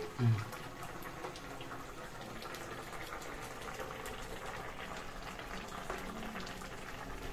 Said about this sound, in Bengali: দারুণ, খুব সুন্দর টকবক করে ফুটছে।